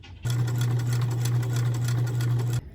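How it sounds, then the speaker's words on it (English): Sewing machine running steadily for a couple of seconds as it stitches fleece with black thread close to the edge, a continuous near hum with no talking. "I'm just going to once again sew as close as I can to the edge and just go very slow around the curves"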